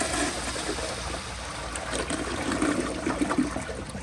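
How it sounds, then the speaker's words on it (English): A 1992 Kilgore Argus toilet flushing on a 1.6-gallon setting, a steady rushing swirl of water that holds strong for the full few seconds and swells slightly toward the end, with no voices. "But here's another flush."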